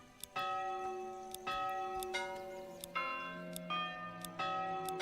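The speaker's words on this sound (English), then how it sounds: "Change the church bell sound." A church bell in the video game Manor Lords tolls repeatedly, about every second, each strike ringing out and overlapping the last in a clear, steady peal.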